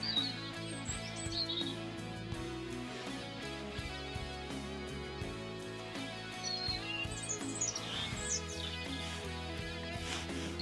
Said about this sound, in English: There's a lovely robin on display. So, such a tiny bird and such a strong voice.